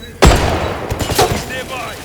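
Gunfire in the video game James Bond 007: First Light, a sharp loud shot followed by a rapid burst of shots and echoing impacts, close and dense, with a short spoken line over it.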